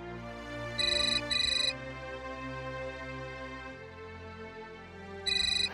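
A phone ringtone chirps in a home, with two short electronic bursts, then a pause with a low musical background, then another burst near the end.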